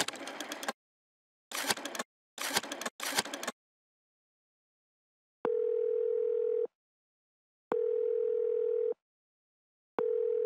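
In a video game, a burst of telephone keypad dialing tones is followed by a steady, repeating ringback call tone sounding in regular long pulses with silent gaps between.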